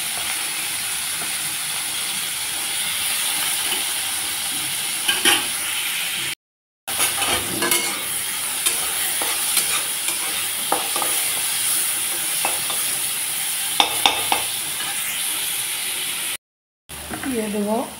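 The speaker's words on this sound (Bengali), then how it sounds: "দিয়ে দেবো পেঁয়াজ কুচি," Chopped onion fries in a little mustard oil, giving a steady broad hiss broken by sharp stirring clicks and scrapes, with a faint voice in the background and two short dropouts.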